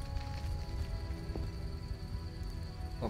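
Rain falls steadily in a video game, a soft, even hiss with faint droplet taps and a low rumble underneath, continuous and fairly quiet throughout.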